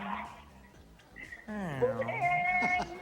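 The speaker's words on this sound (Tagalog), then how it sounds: "Pusa." A cat meows with a drawn-out, rising and falling cry in the second half, set against a noisy live television street segment where people talk and call out around it.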